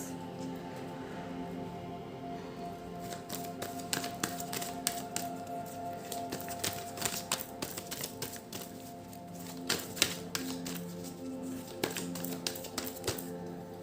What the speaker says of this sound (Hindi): till the time I shuffle the cards